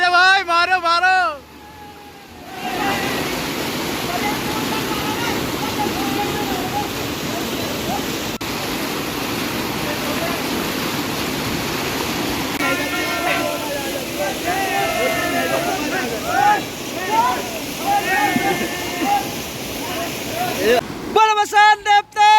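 Many people bathing in flowing river water, with a steady rush of water throughout and splashing and shouting voices rising over it in the second half.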